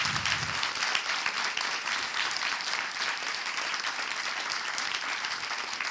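A large audience applauds an organizer at the closing session of a workshop, with continuous dense clapping that holds steady throughout and no voices over it.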